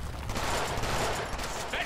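Dense, continuous gunfire from the Deadpool video game, a steady fusillade of shots running throughout at close range with no clear gaps.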